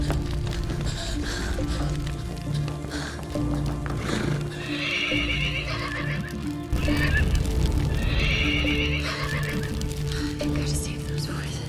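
Horses whinny and neigh repeatedly at close range while hooves clip-clop underneath, with voices talking over the steady bustle.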